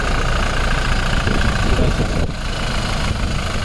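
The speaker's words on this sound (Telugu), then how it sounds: "బండి అయితే ఇంజన్ మరి స్టార్ట్ చేసి మరి చూపిస్తున్నాను సార్" A 2020 Toyota Innova Crysta 2.4 diesel engine idles close by with a steady low rumble and rattle, running evenly throughout.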